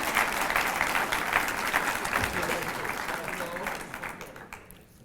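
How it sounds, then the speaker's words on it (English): Conference audience at the My Brother's Keeper evening session applauding themselves, a dense, fairly distant wash of clapping that fades out toward the end. "give yourselves a round of applause for being a part"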